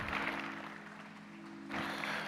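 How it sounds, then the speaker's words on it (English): An audience claps in praise at a memorial celebration of life service for a sheriff's deputy, a steady wash of applause from a crowd that swells again near the end. "Let's give God a hand clap of praise."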